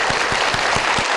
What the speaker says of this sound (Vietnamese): Một tràng vỗ tay để chúng ta bắt đầu phần 4 thưa quý vị.